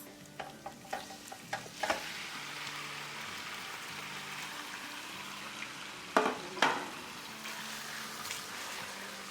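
Bone-in chicken pieces frying in a pot for biryani, a steady soft sizzle with scraping spoon strokes that come in a quick run of knocks early on and again later, with no talking.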